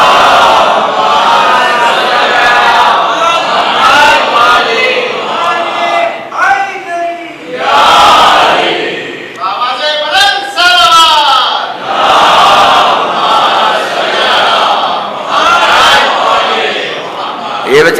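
A majlis congregation chants in unison, loud voices rising and falling in repeated waves of salawat and Nara-e-Haidari calls, with brief pauses between bursts and no solo talk.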